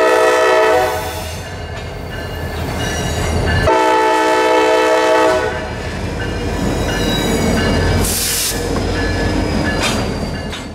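A CSX local freight train on a branch line passes close by and loud, its horn blaring in long sustained blasts over rumbling wheels, clattering cars and a brief squeal.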